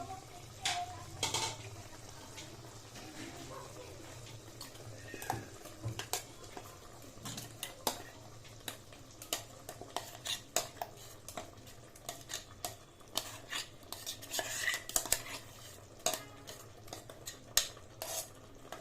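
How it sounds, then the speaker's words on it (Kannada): A spoon stirs ground masala paste into village-style chicken curry in a pot, making repeated sharp metallic clicks and scrapes over a low, soft sizzle. The clatter is uneven and close, with brief sounds of movement. "ಈಗ ನಾವು ಬಿಟ್ಕೊಂಡಿರೋ ಮಿಕ್ಸಿಗೆ ರುಬ್ಕೊಂಡಿರೋ ಮಿಶ್ರಣ ಇರುತ್ತಲ್ವಾ ಇದನ್ನು ಹಾಕೋತಾ ಇದ್ದೀನಿ"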